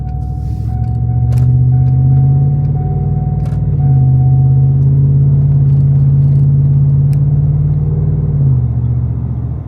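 A deep, steady Ford Coyote engine drone idles loud and close through a muffler-deleted exhaust, with a low throaty rumble that holds constant for several seconds before easing slightly near the end.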